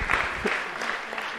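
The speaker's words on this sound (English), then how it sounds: "Round of applause for that." Conference audience applauding at a chatbot industry event, a brief burst of steady clapping filling the room with a faint voice underneath.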